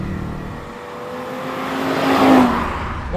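A 2025 Audi RS 3 engine accelerates hard out of a corner, its tone climbing steadily and swelling loudest near the end, with no one talking over it.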